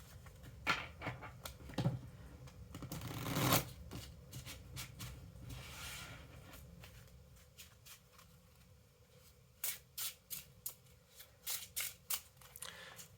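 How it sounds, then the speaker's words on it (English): A deck of playing cards is shuffled by hand for cribbage, with papery riffles and a louder burst early, then quieter handling and a run of quick, sharp card snaps near the end. "I have a deck of cards here, which I will quickly shuffle"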